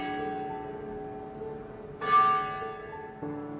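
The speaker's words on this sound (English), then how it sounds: "as the sound of the church bells rang out, signaling the 7 o'clock evening hour" A church bell rings out with long, humming overtones, struck again partway through so the tones swell and linger.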